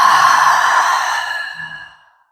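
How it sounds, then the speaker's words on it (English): One long, noisy exhale from an open throat during a yoga breathing practice, like fogging a mirror, close and breathy, trailing away to silence. "This is a nice noisy breath."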